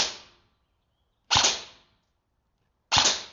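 Airsoft sniper rifle firing three loud, sharp shots, each with a short ringing decay, spaced about one and a half seconds apart with silence between.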